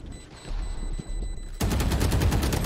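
Rapid bursts of video game gunfire erupt halfway through, a dense, loud rattle of automatic shots following quieter background noise.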